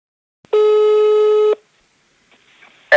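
A single long telephone call tone sounds clearly for about a second while calling someone, followed by near silence and a faint line click.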